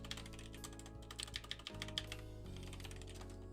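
Fast, steady typing of code on a computer keyboard, a dense run of light key clicks close by over a constant background hum, with no one speaking.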